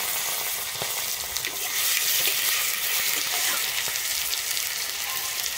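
Tomato pieces fry with five-spice (panch phoron) in a pan, giving a steady close sizzle and crackle throughout with no talk over it.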